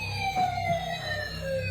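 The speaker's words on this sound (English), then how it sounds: "I hear a siren or something." A faint, distant siren wails in a driveway, its tones sliding slowly downward under a low background hum, with no voices.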